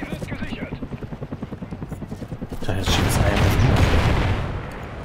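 Helicopter in Call of Duty Ghosts multiplayer, a steady rotor chop pulsing rapidly before swelling into a louder roar mixed with gunfire and explosions.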